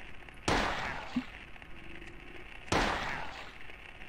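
Two sharp gunshots ring out about two seconds apart in the video game Silent Hill, each a loud crack with a short echoing tail over a quiet background.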